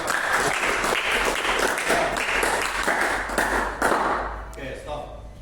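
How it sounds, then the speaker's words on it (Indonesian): A school class claps for the winning group during a floor gymnastics lesson, a dense round of applause lasting several seconds and fading out, with voices mixed in. "Tepuk tangan dulu untuk kelompok 2."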